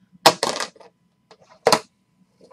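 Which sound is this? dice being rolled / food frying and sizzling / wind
dice being rolled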